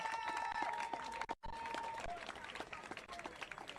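Applause at an interschool dragon boat competition trophy presentation, a crowd clapping in a dense, continuous patter with cheers and voices mixed in, briefly cutting out before resuming.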